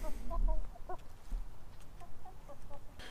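Several chickens cluck softly in short bursts nearby while scratching in a yard in winter, scattered calls over quiet outdoor background.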